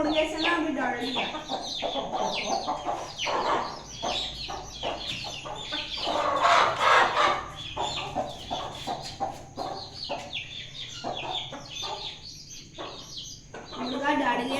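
Chickens and a rooster in a backyard bird setup cluck and call repeatedly. Short, busy bursts of fowl calls overlap at moderate distance throughout.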